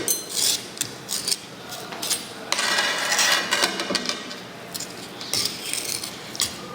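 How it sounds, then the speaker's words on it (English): Thick soil paste being mixed with a spatula in a soil mechanics lab, a series of irregular scraping, clicking strokes against the dish, close and fairly quiet, in uneven bursts. "we mix it well with using spatula"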